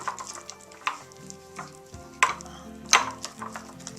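Butter at room temperature being stirred with mustard in a bowl, giving soft scraping and clinking strokes at close range, with a couple of sharper utensil taps partway through.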